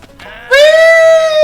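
A goat in the video game Goat Simulator 3 lets out a loud, drawn-out, quavering scream-bleat that starts abruptly after a short, quieter lead-in and holds for about a second, close and alone.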